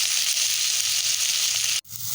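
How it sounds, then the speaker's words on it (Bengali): Turmeric, chili powder and tomato fry in a hot pan with a steady, loud, broadband sizzle that runs unbroken before a brief sharp cut, then the sizzle resumes. "সবগুলো একসাথে দিয়ে ভালো করে কষতে থাকবো"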